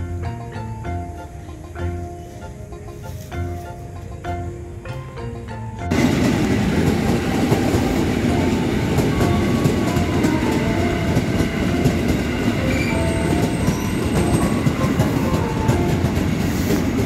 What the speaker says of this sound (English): So we are continuing waiting for the trains.